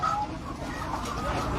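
Hens clucking on a laying hen farm, a dense, continuous flock murmur of overlapping clucks and calls with steady barn noise, fairly loud and close, no talking.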